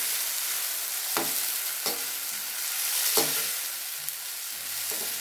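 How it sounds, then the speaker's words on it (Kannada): Chopped tomato fries for hotel-style dal, a steady close sizzle in the pan broken by a few sharp stirring scrapes. "ಟೊಮೆಟೊ ಕೂಡ ಸ್ವಲ್ಪ ಫ್ರೈ ಆಗಬೇಕು"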